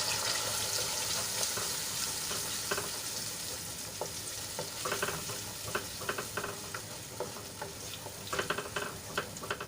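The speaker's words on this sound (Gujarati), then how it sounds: "સરસ રીતે એને આપણે તેલમાં મિક્સ કરી લઈશું।" Spice paste is stirred into hot oil in a pan for a sweet corn and paneer curry, sizzling steadily while a spoon scrapes and clicks in irregular strokes, close and fairly soft.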